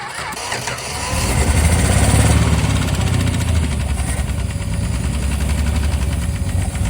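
A long-abandoned 1964 Plymouth Valiant convertible engine runs roughly and unevenly, a loud, steady mid-pitched rumble with a knocking, sputtering texture that surges early and keeps going without settling into a smooth idle.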